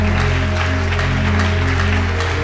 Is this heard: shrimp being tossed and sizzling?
no